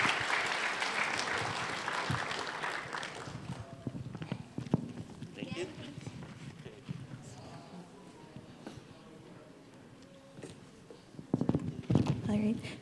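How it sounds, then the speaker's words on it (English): Audience applause at an investor summit for mining and company growth presentations, a dense burst of clapping that fades after a few seconds, then a quieter stretch before a fresh round of clapping swells near the end. "let's give him a round of applause"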